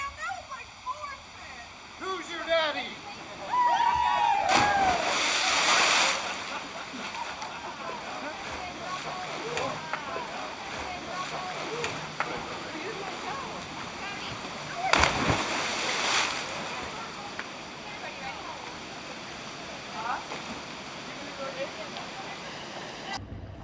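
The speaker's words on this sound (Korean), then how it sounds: "보기에도 아찔한 높이의 관문에서 아이들이 다이빙 솜씨를 뽐냈다." Children dive from a dizzyingly high gate into a Canadian canal, making two big splashes that stand out over a steady rush of water and outdoor ambience.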